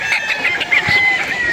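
Young bullstag roosters on a game farm in Padre Garcia, Batangas crow and cluck close by, with several overlapping calls in a steady stream and faint background noise.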